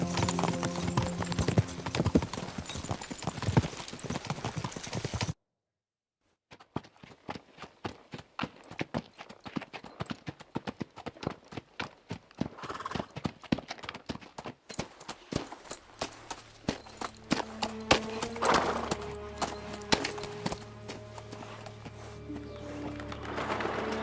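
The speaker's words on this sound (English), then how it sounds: "Sounds like horses." Horses in the medieval game Kingdom Come Deliverance II, with steady hoof clip-clops drumming close by after a short silence, then continuing under a low rumble and other game ambience.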